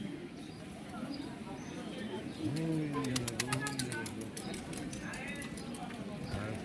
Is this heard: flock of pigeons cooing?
yes